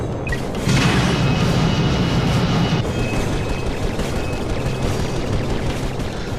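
Space battle explosions in the video game Ratchet & Clank: Going Commando: a dense, sustained rumble of booms and crashes that swells loudly near the start and then rolls on steadily, with no talk.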